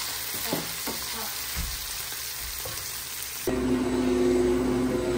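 Onions with a little salt frying in a pan, a soft hiss broken by a few scraping stirs early on, then a louder, fuller sizzle with a steady hum taking over near the end; no one speaks.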